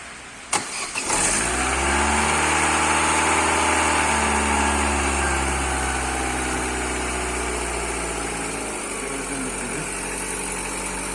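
A car with no battery fitted, running on a Bim Polosmart jump starter, cranks briefly and catches, then settles into a steady, loud idle heard close for about ten seconds with no voices.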